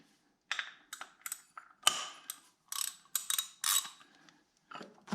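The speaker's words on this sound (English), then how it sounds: "I'm using a 76 millimeter oil filter wrench" A 76 mm oil filter wrench works an oil filter loose on a Wood-Mizer LT40 sawmill: a series of close, sharp metallic ratcheting clicks and scrapes in short bursts, separated by quiet gaps.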